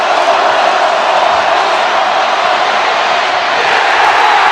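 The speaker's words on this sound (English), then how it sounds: "And Georgia does it. And the crowd loves it." A stadium crowd roars at a 2021 college football game between Georgia and Missouri, a steady, dense wall of cheering that holds at full loudness throughout with no clear breaks.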